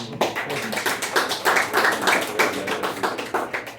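Applause from a live audience for a guest at a podcast taping, a dense steady patter of many hands clapping close by, sustained throughout with no talk over it.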